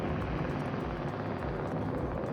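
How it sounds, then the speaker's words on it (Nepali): A rescue helicopter approaches over a coastal hiking area near the Seven Sisters cliffs, a steady broadband rotor and engine roar with faint regular blade pulsing, continuous and fairly loud, with no talk. "हेलिकप्टर लिन आइरहेको छ"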